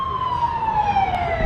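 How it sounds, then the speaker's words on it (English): A fire truck siren wails loudly past an outdoor rally in Los Angeles, its tone sliding slowly downward as it passes, with traffic rumble underneath. "Oh, that's a fire truck."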